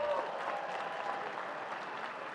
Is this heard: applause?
yes